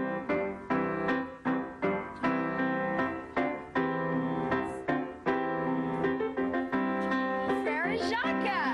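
Frère Jacques melody picked out on a bright, plucked or struck instrument, an even string of clear single notes, close and alone.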